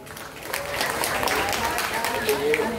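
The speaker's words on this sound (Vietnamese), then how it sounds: "Xin một tràng pháo tay lớn cho ban nhạc." Concert audience applauding a band at an evening music show in My Tho, a steady wash of clapping and crowd noise sustained throughout.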